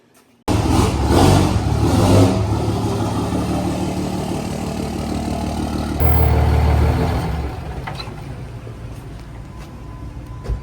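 A pickup truck engine kicks on abruptly and revs loudly as it is pulled out of a shop, a deep rumbling roar with a second rev partway through, then settling to a quieter idle.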